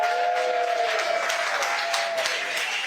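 An audience claps and cheers continuously, a dense, bright wash of applause at steady volume throughout.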